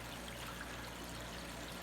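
Water runs continuously over a gold recovery water table, a steady, even trickling wash with a low pump-like hum beneath it, heard close and alone for a couple of seconds.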